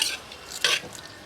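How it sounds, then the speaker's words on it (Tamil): Potatoes frying in a pan for chicken curry get stirred with a spoon, a brief close scrape and sizzle in two short bursts. "பிரட்டுங்க உருளைக்கிழங்கு போட்டாச்சு."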